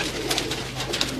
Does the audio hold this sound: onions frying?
no